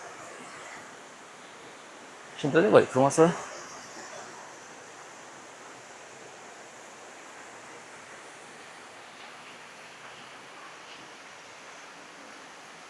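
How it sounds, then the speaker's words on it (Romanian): Hotnita waterfall in Bulgaria gives a steady, soft rush of falling water heard from some distance. A voice speaks briefly over it near the start. "Deci asta e faimoasa cascadă."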